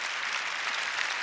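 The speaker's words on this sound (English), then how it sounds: "Definitely something to applaud" Audience applause at a women's conference, a dense steady patter of many clapping hands, loud and sustained with no voices over it.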